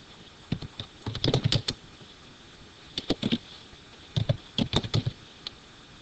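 Bursts of rapid typing on a computer keyboard, clustered keystrokes separated by short pauses, close and clear with no voices.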